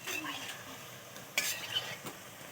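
Semolina gulab jamun sweets frying in hot oil, a soft steady sizzle with a few sharper clinks of a stirring spoon against the pan, close and fairly quiet.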